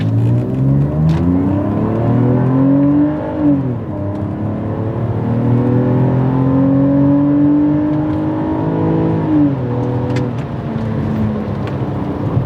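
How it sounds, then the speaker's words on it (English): A 3.0-litre straight-six car engine revs hard and accelerates away, its pitch climbing through gear changes, loud and close with no other sounds. "Then Campbell departed in a whirlwind of straight 6 fury."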